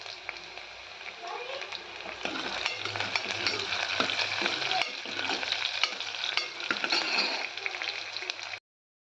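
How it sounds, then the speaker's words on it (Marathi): Onion and crushed garlic sizzle steadily as they fry and get stirred in a pan, with a constant crackling hiss and scraping of the spoon, close and fairly loud throughout with no talking. "कांदा चांगला फ्राय करून घ्यायचा आहे."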